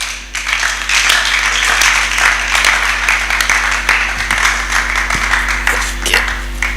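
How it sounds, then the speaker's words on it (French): A church youth-service congregation applauding, steady dense clapping from a crowd held for several seconds, with a constant low hum underneath. "À cela, je vous demande de vous acclamer vous-même, vous tous."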